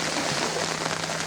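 Rain pours steadily on a beach camp during a rainstorm, a dense, even hiss of drops that stays loud and close throughout the short stretch with no talking.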